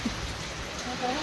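Rain falling after a night-long downpour, with a brief, even patter of drops on surfaces and a faint voice murmuring underneath.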